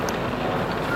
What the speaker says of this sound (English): Still windy. It's pushing my camera a little bit.